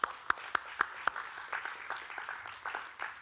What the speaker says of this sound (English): please give a round of applause to the panelists again